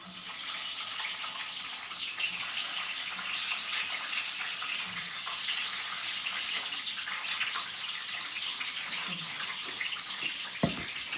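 Cooking oil sizzling in a pan while frying food for dinner at home: a steady, dense hiss runs throughout, with a sharp clatter near the end.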